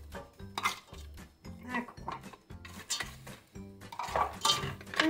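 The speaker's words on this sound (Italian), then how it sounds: "adesso andiamo ad aggiungere anche i piselli" Peas tipped into a pan of mushrooms, with repeated clinks and scrapes of a utensil against the pan at a steady rhythm, close and fairly loud, and a light sizzle underneath.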